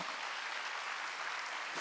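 Congregation clapping during a Wednesday church service, a soft, distant wash of applause held at low level throughout, with no speech over it.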